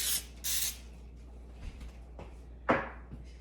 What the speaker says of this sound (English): I like to spray mine really good with a cooking spray that's got flour in it